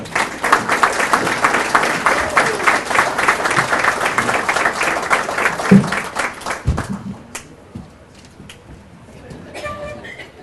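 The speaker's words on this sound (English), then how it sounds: "let's have a nice round of applause" Banquet audience at a Hall of Fame event applauding, a dense round of clapping for several seconds that thins out and dies away, followed by a few scattered sounds in a quieter room.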